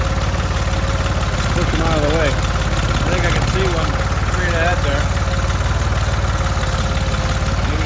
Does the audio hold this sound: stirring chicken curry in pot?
no